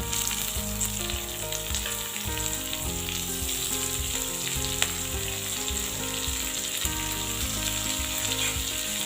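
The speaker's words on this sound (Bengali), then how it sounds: "পেঁয়াজটাকে একটু ভালো করে ভেজে নেব।" Chopped onion frying in hot oil after garlic, a dense continuous close sizzle with occasional stirring, steady and loud over music throughout, with no talk.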